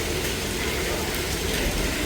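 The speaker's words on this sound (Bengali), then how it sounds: "কারণ বৃষ্টি কমছে দেখে" Rain pouring down onto a flooded street, a loud unbroken wash of hiss with a low rumble underneath.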